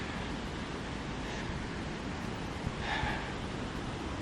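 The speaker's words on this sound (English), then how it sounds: "enjoying the beach" Waves washing on a beach, a steady broadband rush of surf with wind noise on the microphone, one brief swell near the end, no talking.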